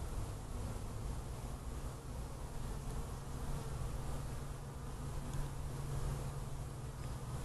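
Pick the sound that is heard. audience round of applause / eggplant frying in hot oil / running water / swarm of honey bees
swarm of honey bees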